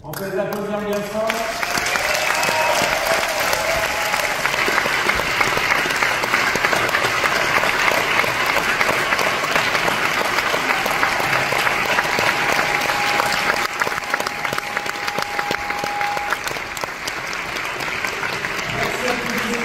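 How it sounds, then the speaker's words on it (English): Loud, sustained applause from the audience at the Cannes Film Festival's Un Certain Regard awards, a dense continuous roar of clapping lasting throughout, with a voice briefly heard at the start. "On peut l'applaudir bien fort."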